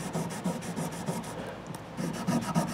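Folded sandpaper rubbed back and forth over the frets of a Fernandes TEJ-55g electric guitar, giving close, steady rasping strokes in an even rhythm with no talking.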